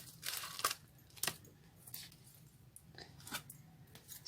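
A deck of tarot cards being shuffled: faint, soft papery riffles and flutters come in several short bursts with quiet gaps between them, and no voice is heard.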